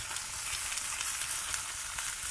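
Steady, loud sizzling of food frying in hot coconut oil, a continuous crackling hiss close by with no talking.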